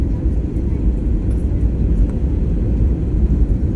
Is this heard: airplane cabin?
yes